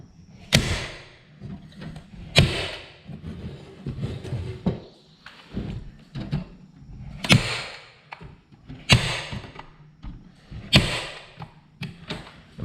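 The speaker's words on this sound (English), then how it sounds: "So then you're gonna take a staple gun" Staple gun firing staples through cut-out honeycomb into a wooden hive frame, a series of sharp snapping thuds spaced a second or two apart, with quieter handling knocks in between.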